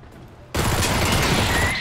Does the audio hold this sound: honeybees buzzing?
no